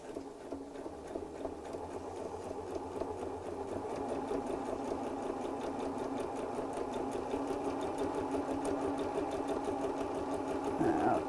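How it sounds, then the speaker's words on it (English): A sewing machine runs a continuous straight stitch around the layered fabric of a tea cosy, with a steady fast mechanical patter close by that builds slightly in speed and loudness. "And we'll just sew around the circle just to hold all of those layers together."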